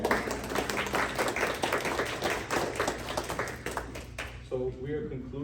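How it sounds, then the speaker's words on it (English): Workshop audience applause at a professional development session: a quick, lively burst of hand claps mixed with talking voices, fading as speech takes over near the end. "I want to give you guys an applause."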